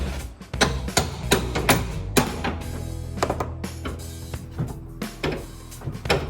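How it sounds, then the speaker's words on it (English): Hammer striking a socket to free a spare tire part on a 1968–82 Corvette C3: a series of sharp metallic blows at uneven intervals, some in quick bursts, close and loud. "I'm just gonna lift this and try to hammer this out."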